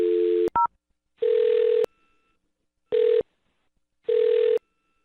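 Telephone call audio: a dial tone, then a few quick dialing beeps, followed by three evenly spaced ringback tones with silent gaps between them, loud and clear with no voices.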